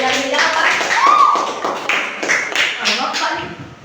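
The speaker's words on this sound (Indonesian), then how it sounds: "Tepuk tangan untuk Iban" A classroom of students claps briefly for a classmate, a scattered, uneven patter of hands mixed with children's voices talking over it.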